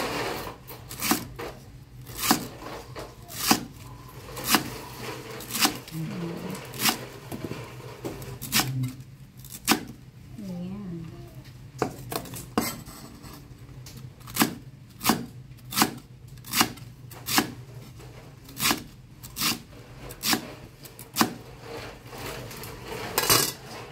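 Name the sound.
knife slicing cabbage into small pieces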